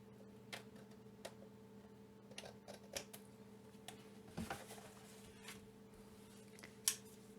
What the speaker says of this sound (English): So I'm just going to trim that off.